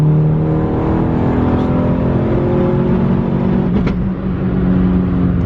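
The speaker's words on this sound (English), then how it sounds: "Now that we're on the highway and can safely give it a little bit of gas, I'm gonna drop down a gear, see what we got." A turbocharged engine, apparently in a Volkswagen MK5 GTI making 20 psi of boost, pulls hard on a highway after a downshift, a loud, steady drone heard from inside the car.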